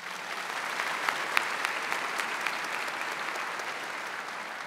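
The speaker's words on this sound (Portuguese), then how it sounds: "Vamos aplaudir a palavra." Steady, dense applause from a church congregation after a scripture reading at a Mass, moderately loud and even throughout with a few sharper claps standing out.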